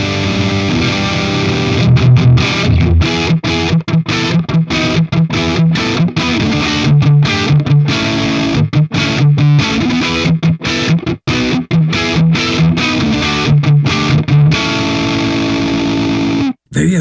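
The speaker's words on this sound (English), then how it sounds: "Very aggressive distortion, this guy," A PRS SE Custom electric guitar runs through an aggressive distortion amp simulator, playing loud, saturated riffs with repeated chugging notes and choppy palm-muted stops, up close and sustained throughout.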